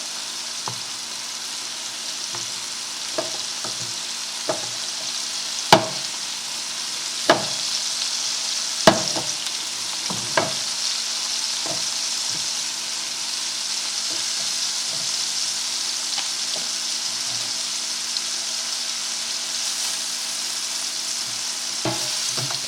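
Scallops sizzle steadily in a hot pan as oil is spooned over them, a continuous bright frying hiss broken by sharp clicks and taps of the spoon against the pan, close and alone without talk.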